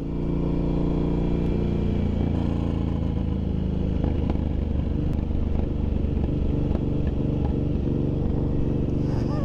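A Suzuki M109R cruiser motorcycle engine rumbles steadily and loudly while riding, a deep continuous drone with wind noise and occasional clattering pops.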